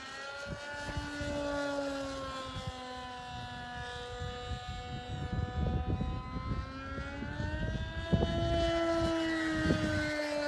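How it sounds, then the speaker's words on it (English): A Grasshopper RC model airplane with an SH glow engine screams overhead in flight, its high-pitched whine rising and falling in pitch through a stall turn, fairly distant, with faint background chatter and wind. "One thing I can say is that SH engine really runs good"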